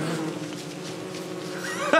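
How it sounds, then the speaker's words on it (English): Bees swarm in Don't Starve Together, a steady, dense insect buzz droning throughout with no gaps, holding a fairly constant loudness. "The bees! The bees! The bees!"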